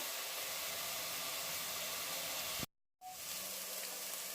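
Spice paste sizzles steadily in a hot pan while paneer kofta curry is being made, a close, dense frying hiss that cuts out briefly in the middle and then resumes at the same level.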